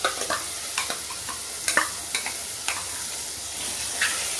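Mushrooms mixed with a finely ground paste in a frying pan, with soft scraping stirs and light sizzling coming in irregular strokes at close range, no voices.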